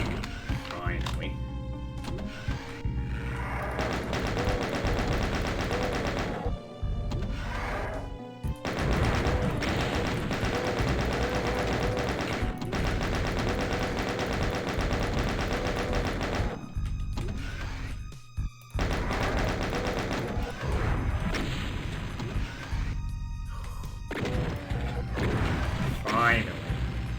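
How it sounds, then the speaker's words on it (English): A chaingunner enemy firing in classic Doom, rapid gunfire and booming shots packed into dense, continuous combat with brief drops to silence, under steady talking throughout. "There is a chain gunner somewhere here."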